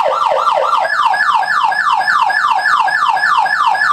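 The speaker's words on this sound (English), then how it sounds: "The yelp does a good one." A loud Federal Signal Interceptor electronic siren yelps continuously, rapid rising-and-falling sweeps repeating steadily without pause.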